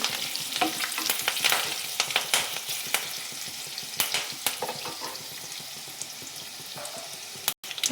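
Curry leaves fry in a hot pan with a steady sizzle, broken by brisk scraping and stirring strokes throughout; no voices.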